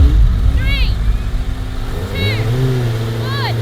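Honda NSX car and Honda CBR1000RR 1-litre 190 hp motorbike revving before a drag race, engine tones rising and falling in steady loud bursts while someone speaks briefly over them.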